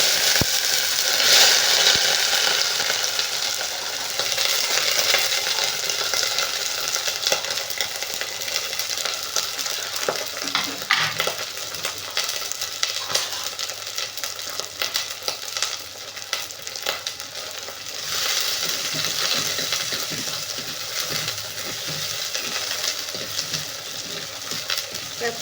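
Peeled garlic, peas and small shallots frying in a pan as they are stirred, a steady hiss and crackle with scattered scraping clatter, moderately loud and unbroken for a long stretch.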